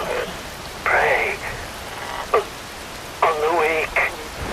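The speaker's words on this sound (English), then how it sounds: "Wind blows. Rain falls." Steady rain pours in the video game Metal Gear Rising: Revengeance, a constant soft hiss running under a voice speaking in short phrases.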